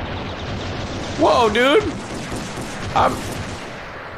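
Gunfire and explosive booms in the video game Ravenfield during a zombie defense battle, a continuous dense roar of shots and blasts while a man calls out excitedly twice over it.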